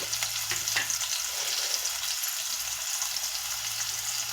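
Onion and green chillies frying in a pan with salt, a steady close sizzle with a few stirring scrapes near the start and no speech.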